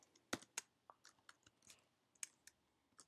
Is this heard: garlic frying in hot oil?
no